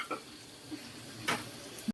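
Food stir-frying in a pan while onions and potatoes are cooked gives a soft sizzle, with brief clinks and scrapes of a utensil against the pan.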